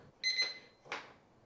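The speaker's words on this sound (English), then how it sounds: "Oop, it beeped already." Battery-operated wall clock giving a short electronic beep, a brief high tone followed after a pause by a softer click or tap, heard close up in a quiet room.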